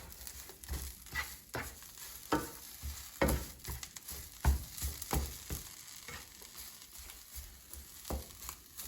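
Kale seasoned with pepper and garlic powder cooks in a frying pan, with a light sizzle and repeated scraping and stirring clatters at an irregular pace, close and moderately quiet.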